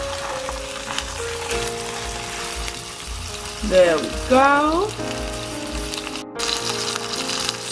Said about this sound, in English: Our cooking oil is a bit hot, so we are gonna add in our sausage and let it fry.